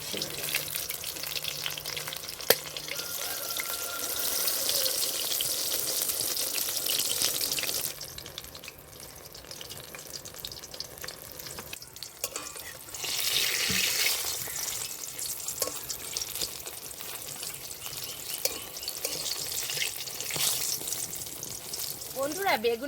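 Eggplant slices, for an egg-and-eggplant dish, sizzle and crackle steadily in a frying pan. The frying is loud and continuous, dips quieter for a while midway, then builds again.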